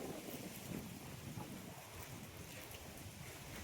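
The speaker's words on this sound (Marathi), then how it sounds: "वारा पण भरपूर सुटलाय" Strong wind roars steadily through the open air during an unseasonal rainstorm, a constant broadband rush with gusty swells and no voices.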